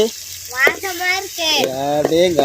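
Small shallots fry in a pan for a Chettinad murrel fish curry, a soft sizzle running beneath a man's close, animated talking.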